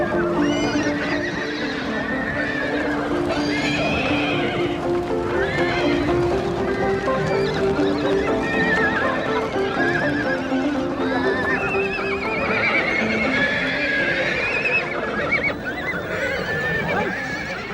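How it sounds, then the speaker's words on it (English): Mongolian horses gathered by herdsmen in early spring, several neighing and whinnying close by over continuous hoof clip-clop, loud and steady throughout. "In early spring, herdsmen gather the horses for breaking in."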